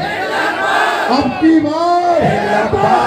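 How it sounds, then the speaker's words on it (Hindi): A crowd at an election campaign rally shouts political slogans together, loud and close, with rising and falling massed voices and a few individual callers standing out over the group. "2 नारे लगाएंगे, उसके बाद चौधरी साहब बोलेंगे, और उसके बाद पान खाने में चलेंगे।"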